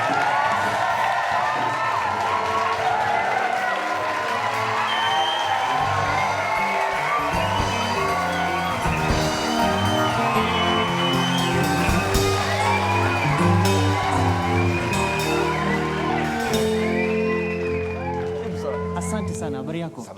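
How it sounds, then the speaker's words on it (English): A studio audience cheers, whoops and applauds for a government spokesman on a television show, a dense continuous roar of crowd noise with overlapping shouts and voices. "let's give a round of applause to the government spokesman, Dr. Hatua."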